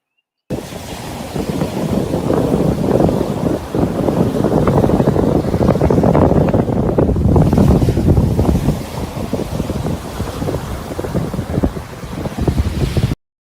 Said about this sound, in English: you're at the beach, and it's the ocean waves